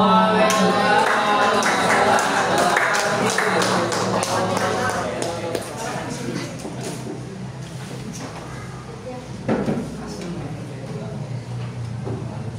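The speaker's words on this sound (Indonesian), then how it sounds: "sekali lagi tepuk tangan untuk Ibu" A roomful of people clapping for a school principal during a staff gathering, a dense burst of claps that thins out over several seconds while a voice speaks over it.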